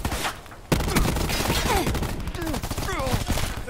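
Rapid gunfire in the Black Ops 4 beta shooter game, a loud volley that bursts in abruptly and keeps rattling. Someone talks over the shots throughout.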